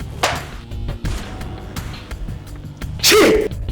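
A single sharp sneeze bursts out near the end, loud and close, after scattered thumps and rustling.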